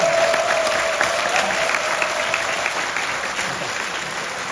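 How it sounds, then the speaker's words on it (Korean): An audience at a Korean political party gathering gives steady, close applause that holds at full strength and then slowly tapers off over a few seconds. "박수 한번 부탁드립니다"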